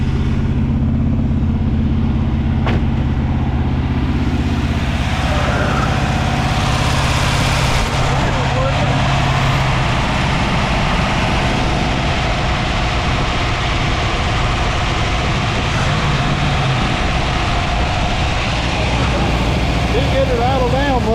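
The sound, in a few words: old car engine running at high idle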